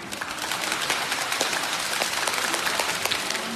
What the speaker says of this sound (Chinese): 让我们用最热烈的掌声欢迎他们的光临